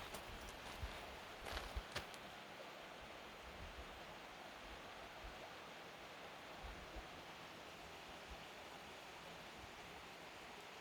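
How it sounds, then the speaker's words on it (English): A creek runs near a yard, its water rushing in a steady, faint, even hiss throughout, with a few soft footsteps or clicks early on and no talking. "Look at that creek."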